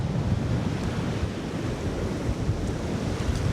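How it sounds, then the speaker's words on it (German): Ocean surf rolls and crashes steadily near a WW2 bunker as the tide comes in, a loud, continuous broadband wash with wind buffeting the microphone and no voices. "Oh, guckt euch die Wellen an."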